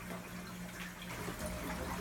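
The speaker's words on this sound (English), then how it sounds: "you'll see that there's water bubbles coming out of the exit of the siphon" Water bubbles and gurgles steadily out of the siphon drain exit of a 125-gallon aquarium, a quiet, continuous trickling wash with no voices.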